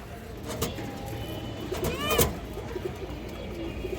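Pigeons coo in a loft holding several fancy breeds, soft repeated calls close by with a wavering tone, against a steady background hum.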